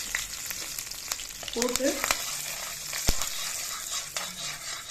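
Urad dal, curry leaves and asafoetida crackle and sizzle in hot oil, close up, with a spoon scraping and knocking the pan at irregular intervals; a few words are spoken softly.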